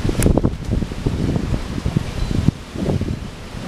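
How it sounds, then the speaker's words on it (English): Wind gusts outdoors with a rough, fluttering rumble, buffeting the microphone continuously and fairly loudly, with no talking. "Disregard the fact that there is a whole bunch of wind in the background."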